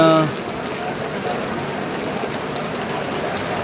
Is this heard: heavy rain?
yes